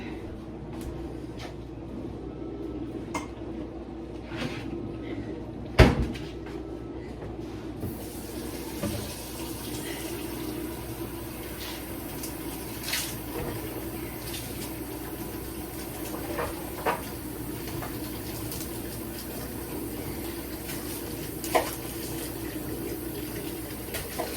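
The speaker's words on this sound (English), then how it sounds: "Now I'm going to go ahead and fill the rest of this up with water" A kitchen tap runs steadily, filling a stockpot with water for homemade chicken stock, a continuous close hiss with a brief knock or clunk partway through and a few light clatters.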